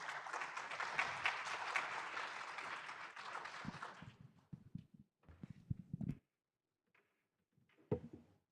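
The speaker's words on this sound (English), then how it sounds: "Please, can we give her a round of applause as she comes for our keynote?" Audience applause for a keynote speaker at the AfriLabs Annual Gathering 2023 conference, dense and steady for about four seconds, then thinning into a few scattered claps, knocks and shuffles before going quiet.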